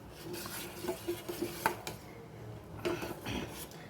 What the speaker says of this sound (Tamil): நம்ம அதை கட்டி விடாமல் நல்லா கிளறி விடணும்